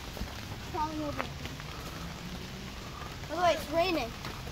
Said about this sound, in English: By the way, it's raining, if you guys can see.